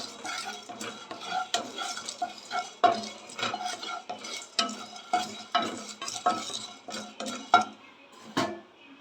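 Whole cloves and other biryani masala spices dry-roasting in a pan, with a steady run of scraping, clinking stirs against the metal and a faint sizzle beneath, close and fairly quiet with no talk.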